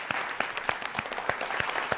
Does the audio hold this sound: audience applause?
yes